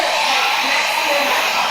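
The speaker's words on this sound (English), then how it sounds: "this is the hair dryer working right now" A hair dryer drawing about 1012 watts blows with a steady, loud whooshing roar, close and unbroken, with no other sounds over it.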